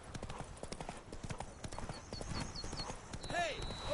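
Horse hooves clip-clop at a steady trotting rhythm in Witcher 3: Blood and Wine, close and continuous beneath people talking.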